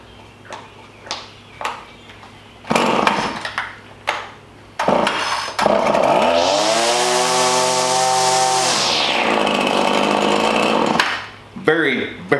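A Husqvarna 525LS string trimmer is pull-started with several sharp recoil yanks, then catches and revs into a loud whining two-stroke drone that rises and settles before cutting off, with speech around it.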